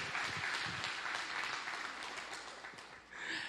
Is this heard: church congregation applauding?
yes